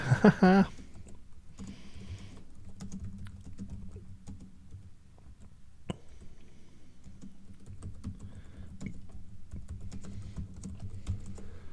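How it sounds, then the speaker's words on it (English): Rapid, loud clacking of keys on a computer keyboard, continuing steadily throughout at close range, with a brief louder burst at the start. "that's some loud ass typing"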